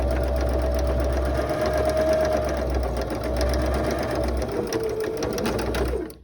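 A sewing machine runs top stitching along a flat felled seam in denim, a loud, steady mechanical whir held continuously at close range before stopping abruptly at the end.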